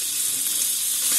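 Oil sizzles in a stew pot, a bright, steady hiss of frying that swells slightly toward the end, with no voices.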